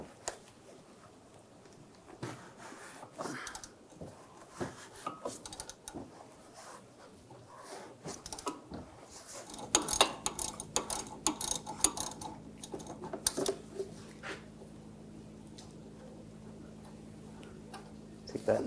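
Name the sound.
socket wrench removing a nut from a sway bar link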